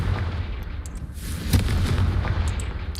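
An explosive Confringo spell blast in a video game goes off as a sharp, loud boom about midway, rising out of a continuous rumbling, crackling background of battle noise.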